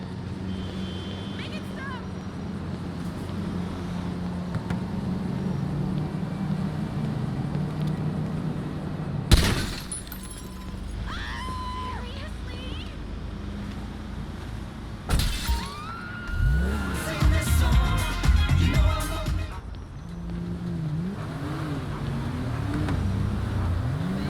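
In Grand Theft Auto V, a car door with a shot-out window is shut, and the broken window glass falls and shatters. The sharp slam and glass crash are loud over steady engine and ambient game noise.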